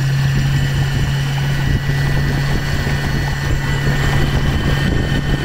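A Torqeedo electric motor drives a prototype 13 ft catamaran at full throttle, giving a steady, loud mechanical hum with a constant low tone over broad wash noise that runs unbroken through the whole stretch.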